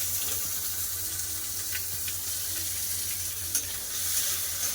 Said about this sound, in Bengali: ভালো করে লাল করে ভেজে নেবো পেঁয়াজ